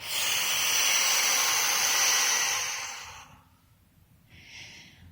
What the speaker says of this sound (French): et vous soufflez fortement